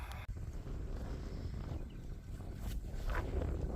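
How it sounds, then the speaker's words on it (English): Wind blows across a farm paddock in gusting rumbles against the microphone, fairly faint overall and rising toward the end, with a brief knock near the start. "hopefully you can hear over the wind"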